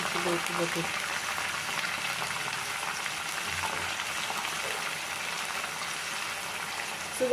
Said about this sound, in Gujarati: ગરમ થઈ ગયું હવે નાખી દઈશું લીલું લસણ ઘી ગરમ થઈ ગયું